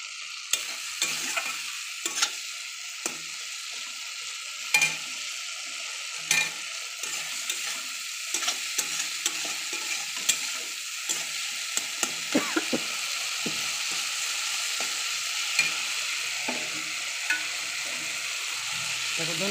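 A chopped tomato and slit green chillies frying in hot oil for a small-hilsa dish, giving a steady close sizzle punctuated by repeated scraping knocks of a spatula stirring in the pan.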